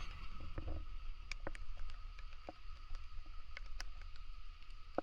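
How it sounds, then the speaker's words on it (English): Light rain patters steadily on a lakeside campsite, with scattered sharp drops tapping nearby over a low, constant background wash, no voices. "it is raining on us for the third time this weekend"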